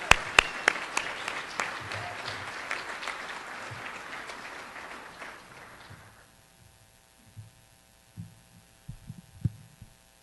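Audience applause at a graduation dinner rings out strongly for about six seconds, then breaks off into scattered quieter sounds and low murmurs.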